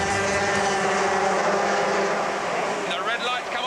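250cc racing motorcycles at the start of a British Championship race, a loud, dense engine roar revving together across the grid, continuous and close throughout.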